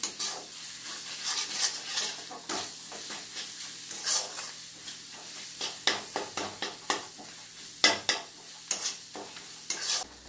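Blended ginger paste with salt and turmeric is sautéed in a pan: a soft continuous sizzle broken by repeated scraping stirs, close and fairly quiet, with no talking.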